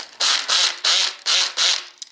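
A Makita CXT FD06Z drill driver, clutch on its lowest setting, runs in five short, loud bursts of whirring and ratcheting as it drives the screw of an electrical outlet, with no talk.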